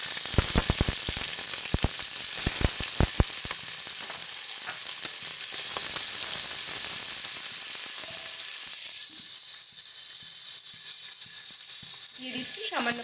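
Prawns dropped into hot mustard oil in a pan, a dense, steady sizzle with a few sharp pops early on that fades to a quieter, softer hiss near the end.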